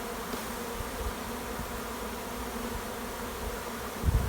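Steady low buzzing of honey bees throughout, many bees in a queen cell starter hive droning together at a constant level, with a brief louder rumble near the end.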